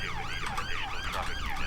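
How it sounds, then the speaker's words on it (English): Wailing police sirens from the GTA 5 video game sweep up and down continuously and loudly over rumbling traffic, with several overlapping siren tones. "Maybe startled by the noise of sirens, so keep off the country lanes."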